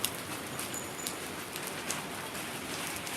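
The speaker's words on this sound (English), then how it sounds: "but it's pouring rain" Heavy rain pours down outside, a dense, steady hiss of drops striking surfaces with occasional sharper splashes, continuous and fairly close with no voices.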